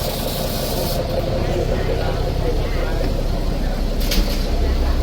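A bus engine idles and rumbles steadily at a Laos–Thailand border crossing, a continuous low drone with a brief hiss or clatter near the end, while people talk over it.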